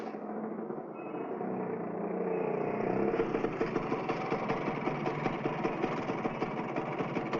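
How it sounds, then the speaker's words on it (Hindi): A broken-down second-hand motorcycle engine rises from a faint hum into a rough, pulsing idle that chugs steadily at close range. "मोटरसाइकिल बिगड़ गई है।"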